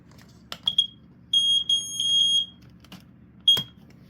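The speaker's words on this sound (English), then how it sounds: "It will go off no matter what when you press in the cover." BRK 79R smoke alarm sounding when its cover is pressed: several short sharp beeps, then a sustained shrill electronic tone in two bursts, and a final brief beep, loud and close.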